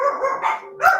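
Dogs barking indoors at home, a few sharp barks rising over a steady background hum, fairly close and loud with no talk over them.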